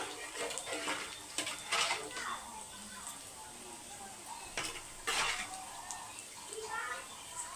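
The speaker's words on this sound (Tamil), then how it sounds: "இப்போ நல்லா கொதிக்கிட்டோம்" A pot of curry simmers and sizzles steadily up close while a utensil stirs and clinks against the sides now and then.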